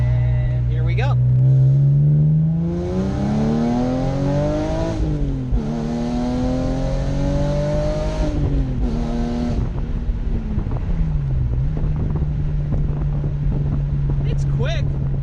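A BMW E46 M3 with a loud, harsh exhaust and 195k miles pulls hard in second gear from 25 mph while merging, its engine note climbing through two rising sweeps and dropping at each shift, close and loud, with wind rush.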